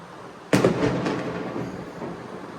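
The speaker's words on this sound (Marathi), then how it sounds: "फटाका उडला" A single firecracker bursts with a sharp, loud crack during Diwali celebrations at home, followed by a crackling, rumbling tail that slowly fades over about two seconds.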